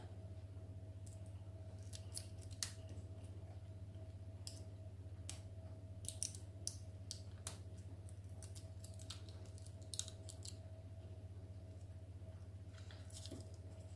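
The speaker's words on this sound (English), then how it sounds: "As I go, I like to cut away the pieces that I've weeded so they don't come back on themselves and stick together" Scissors snipping away weeded adhesive ultra glitter vinyl: scattered small, crisp clicks and cuts, some in quick clusters, over a steady low electrical hum.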